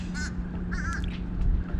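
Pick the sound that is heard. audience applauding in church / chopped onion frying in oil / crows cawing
crows cawing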